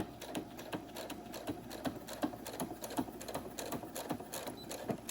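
A home sewing machine stitches in the ditch along a seam on a fabric art wallet, a quiet rapid mechanical chatter with regular rhythmic clicks, close and steady with no talk.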